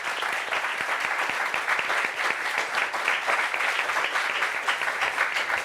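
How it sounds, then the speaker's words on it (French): A television studio audience applauds steadily as a third guest, an entrepreneur from Cocody, walks on stage; dense, even clapping fills the whole stretch at close range with no break. "Applaudissements pour elle."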